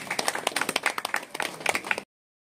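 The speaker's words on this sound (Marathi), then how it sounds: "टाळ्या वाजवून तुम्ही इकडे" An audience applauds at a village temple anniversary gathering in Harmal, Goa: a brief burst of dense, lively clapping from a crowd that stops abruptly after about two seconds.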